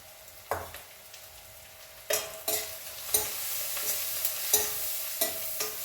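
Oil sizzles steadily as tempering spices and turmeric fry, with scattered sharp clicks and a few stirring scrapes against the pan, close up and with no voices.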